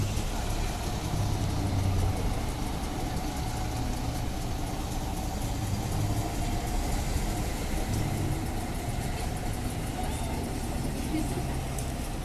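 A bus pulls away from a stand at a city bus station, its engine a steady low rumble heard from a moderate distance among general station noise, with no clear rise in revs.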